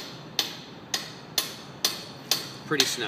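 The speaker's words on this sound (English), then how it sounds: "I'm going to tighten the top one. So I'm working these wrenches in opposition to each other." Two wrenches working against each other tighten a bolt, giving six evenly spaced sharp metallic clicks about half a second apart, close by, with a brief spoken remark near the end.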